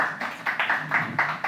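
A talk-show audience applauds a guest named Wisnu Nugroho, a brief burst of rhythmic clapping that swells and dips over about a second and a half.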